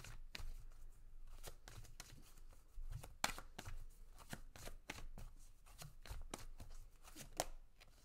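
Love oracle cards being shuffled and drawn from the deck, a quick run of crisp riffling flicks and slaps in irregular bursts, close and fairly quiet, with no speech.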